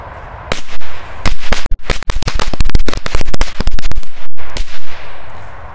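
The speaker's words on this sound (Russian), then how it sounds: "Вот так вот рванули петарды" A burst of firecrackers set off beside a toy truck crackles in a rapid irregular string of sharp, loud, close bangs and pops, dense in the middle and thinning toward the end.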